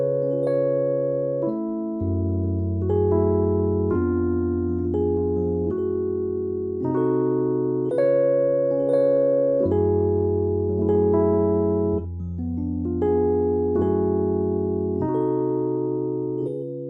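An R&B neosoul chord progression plays slowly and alone, each sustained chord held for about a second before shifting, with small ornamental trills between changes.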